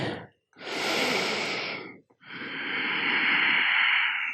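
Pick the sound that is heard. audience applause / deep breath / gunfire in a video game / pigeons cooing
deep breath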